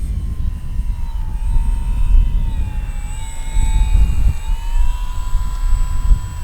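An Arrows RC Husky model airplane on a 4S setup flies in to land on grass, its motor whining steadily with shifting pitch as it passes nearby over outdoor wind rumble.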